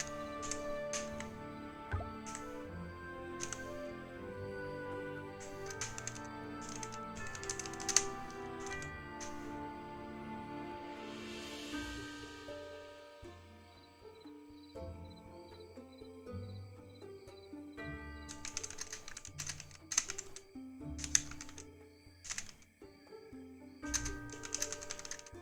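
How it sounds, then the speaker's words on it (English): Bursts of typing on a computer keyboard: rapid clicky keystrokes in uneven clusters. They sit over steady background music with long gaps between bursts and no speech. "Am I on my English type of keyboard?"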